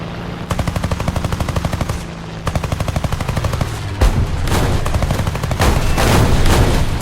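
Rapid bursts of aircraft cannon fire from an XF5U fighter in the War Thunder air combat game, loud and continuous with short pauses between long rattling volleys, with no talking.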